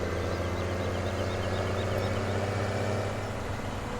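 A tractor engine in Farming Simulator 17 runs at a low, steady idle, a soft continuous mechanical hum with no talking.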